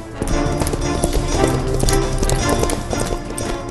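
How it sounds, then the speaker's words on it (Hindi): Horses gallop along a busy expressway amid traffic in Noida, their hooves clip-clopping in a steady, continuous rhythm, fairly loud and close, with road noise underneath and no speech. "पहली बार देखिए ट्रैफिक के बीच सड़क पर दौड़ते घोड़ों"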